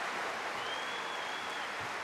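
Arena crowd applause at a Turkey versus Serbia FIBA 2023 World Cup qualifier basketball game: a dense, steady wash of clapping and crowd noise that holds throughout, with a thin whistle-like tone drifting above it.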